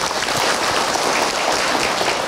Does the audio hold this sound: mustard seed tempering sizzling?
no